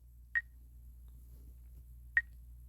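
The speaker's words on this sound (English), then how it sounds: "Enter the shown contact ID in order to make the call." Two short, clear dialing-tone beeps sound in the video game The Healing as a phone contact ID is entered, spaced about two seconds apart over a quiet low hum.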